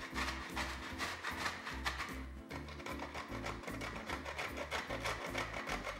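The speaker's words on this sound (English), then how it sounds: "Get your grater out, and while it's frozen," Frozen bread is grated by hand on a kitchen grater to make breadcrumbs: rhythmic rasping strokes in a steady back-and-forth pattern, close and fairly quiet, with one brief pause midway.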